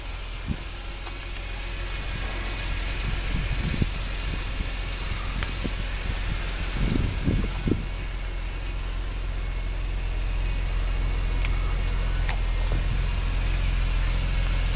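A 2007 BMW Z4 M Roadster idles at a steady, even rumble with a constant low hum and no voices.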